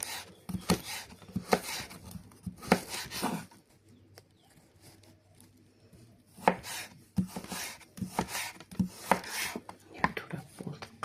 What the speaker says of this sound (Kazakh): Қазір сәбізін тураймыз.